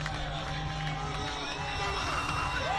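Football crowd at a Phoenix Rising FC versus Monterey Bay FC match roaring after a goal, a dense sustained cheer with whoops from many voices, loud and continuous across the whole stretch.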